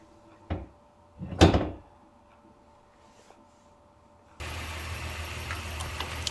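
A car hood thumps shut, one short knock followed by a louder heavy slam up close, then quiet until a car engine starts idling steadily.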